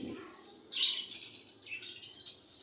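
Pet parrots chirp indoors in a few quiet, close tweets, with one brighter call standing out near the start, with no talking.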